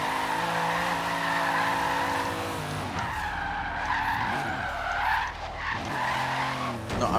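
A car drifts with the e-brake in Forza Horizon 3, tires skidding and squealing continuously under a revving, shifting race-car engine, loud and sustained.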